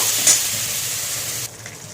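Prawns frying in hot oil give a steady bright sizzle that cuts off sharply partway through, leaving a quiet background.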